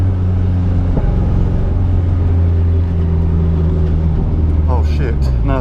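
Nissan S14 Kouki with a failing turbo, its engine droning loud and close with rising and falling revs and a rough rumble, while a voice talks over it near the end.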